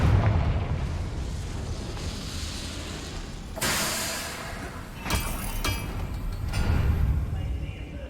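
A Confringo blasting spell goes off in a wizard video game, loud booming bursts over a dense rumbling bed of game noise, with a few sharper blasts toward the end.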